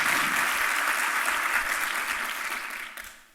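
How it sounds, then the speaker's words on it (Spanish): Audience at a Chilean business climate-action event applauds EY's work: a dense, steady wash of clapping from a full room that holds evenly, then slowly thins and fades toward the end. "quiero pedirle un aplauso al trabajo de EY"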